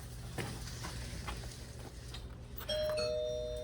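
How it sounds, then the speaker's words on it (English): A two-tone electronic doorbell chime rings near the end, clear and close, after a stretch of quiet background noise. "Doorbell works."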